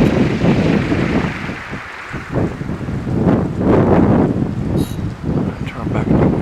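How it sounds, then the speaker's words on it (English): Steady strong wind at about 12 miles per hour blows around home wind turbines, a loud continuous roar buffeting the microphone, swelling and easing with gusts and no talk. "Right about 12 mile an hour wind there, y'all."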